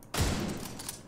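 A short burst of gunfire in The Division 2 video game, aimed at headshots, with a sharp onset followed by a rapid rattling volley lasting about a second.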